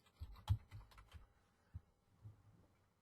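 Computer keyboard typing as lettering is entered in embroidery digitizing software: a handful of soft, irregular key clicks in a short burst, then sparse taps, faint and close.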